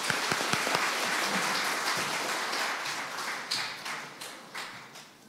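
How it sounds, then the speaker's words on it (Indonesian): A church congregation claps during a service. The clapping starts with a few crisp claps up front, then becomes a moderate patter that thins out and fades toward the end. "Mari kita tepuk tangan."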